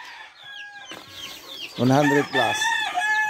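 Day-old chicks peep with high, thin chirps close by, mixed with louder bird calls, while someone talks over them.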